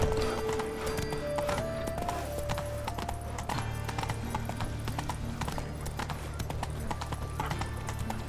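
Roach the horse gallops in The Witcher 3, with steady, rapid clip-clop hoofbeats running throughout alongside a game music bed, and a brief whinny woven in.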